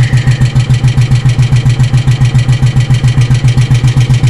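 A 2007 Royal Enfield Bullet 500 motorcycle ticks over at idle, a loud, close, steady thumping beat of evenly spaced pulses with no talk.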